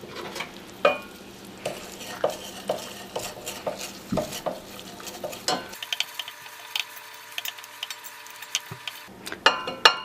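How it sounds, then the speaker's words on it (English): A spoon stirs sesame seeds into a warm mixture in a pot on the stove, with repeated scraping and clinking strokes at close range and a quiet, steady sizzle underneath. "we're gonna mix those in"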